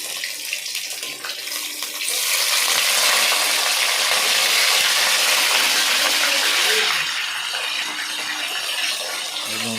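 Marinated fish dropped into hot oil in a home kitchen bursts into a loud, steady broadband sizzle that holds for several seconds, then eases back to a quieter hiss.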